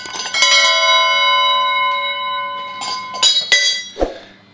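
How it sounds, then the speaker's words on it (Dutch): A small hand bell is rung close by, striking about twice with bright, sustained ringing tones that decay slowly between strikes. It sounds alone, with no talking. "we trekken even lekker aan het belletje"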